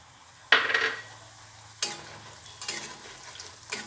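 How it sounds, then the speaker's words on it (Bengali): Bori lentil dumplings dropped into hot oil for a vegetarian shukto: sharp bursts of sizzling that flare up and fade, three or four close splashes with quieter frying in between. "তেল গরম হয়ে গেছে এবার বড়ি কটা ভেজে নেব"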